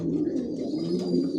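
Homing pigeons, red chequer racers of Janssen type, cooing in a pigeon loft: a steady, close, low warbling coo that runs without pause, with no talk.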